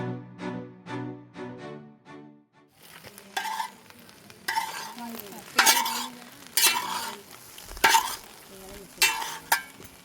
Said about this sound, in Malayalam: ഫ്രൈഡ് റൈസ് ഇങ്ങനെ റെഡി ആയിക്കൊണ്ടിരിക്കുന്നു